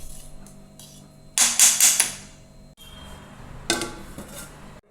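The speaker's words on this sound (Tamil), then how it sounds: "இப்போ ஒரு மூடி போட்டு நம்ம மூடி வச்சுட்ருக்கோம்" A lid set onto a pot at home: a sharp cluster of metallic clanks partway through, then a second, softer clatter a moment later, each dying away quickly in a quiet room.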